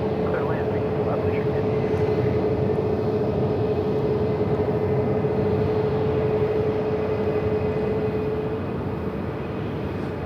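An airliner lands on runway 36 left at Charlotte airport, a broad steady roar of jet engines with a faint droning whine, distant and continuous, while a voice talks over it.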